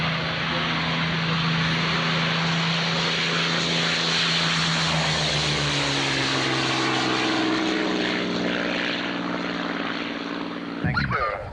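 A British all-metal Supermarine Spitfire fighter roars loudly and steadily at an airfield display, its propeller engine droning with a shifting pitch as it passes close, then the sound cuts off abruptly near the end.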